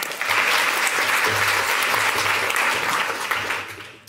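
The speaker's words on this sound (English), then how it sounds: "Please, a big applause for Arnoud Verhoef." An auditorium audience gives sustained, dense applause for a speaker at a health talk, loud and steady for about four seconds before tapering slightly at the end.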